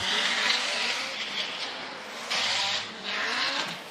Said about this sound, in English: Ryan Turk tries to stick it to the side of that big Ferrari, that hot little hatchback